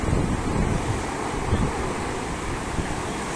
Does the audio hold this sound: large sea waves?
yes